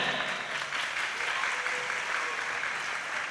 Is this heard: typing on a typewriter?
no